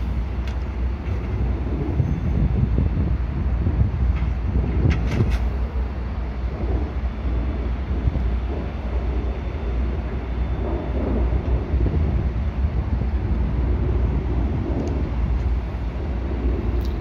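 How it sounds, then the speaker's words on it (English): A military freight train rumbles steadily past on the rails in Dallas, Texas, a loud, continuous low roar with occasional metallic squeals. "Looks like a military train."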